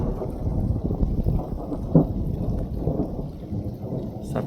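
Deep rolling thunder from a thunderstorm over the mountains rumbles continuously near and loud, with steady rain underneath and a sharper crack about midway.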